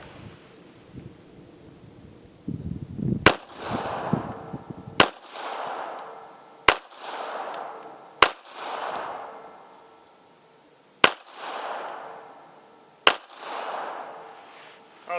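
A Taurus Spectrum .380 pistol fires factory ammunition at an outdoor range: six sharp, loud reports spaced a second or two apart, each followed by a rolling echo, with wind noise beforehand.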